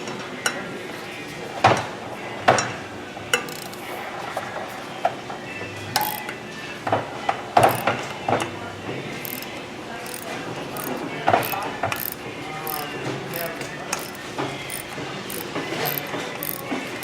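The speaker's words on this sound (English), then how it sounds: "Now to take the front housing off, you have to remove these two bolts that actually lock the front housing to the rotor." Intermittent ratchet clicks and sharp metallic clanks as housing bolts are backed out of a Baldor 2HP electric motor, scattered bursts over steady workshop background, fairly close.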